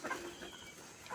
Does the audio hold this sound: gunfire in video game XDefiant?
no